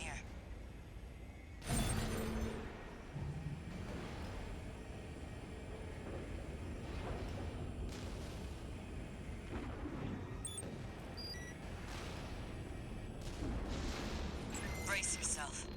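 A launcher firing a container in the mech game Armored Core 6, a sudden heavy boom followed by a sustained rumbling roar and scattered metallic crashes while a voice talks over it.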